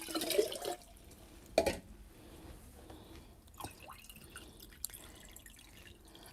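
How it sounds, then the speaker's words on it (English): Water poured into a glass jar of dates, a few faint splashing and dripping bursts that come and go over quiet background. "I'm gonna add some more water."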